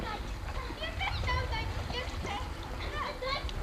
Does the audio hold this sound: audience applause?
no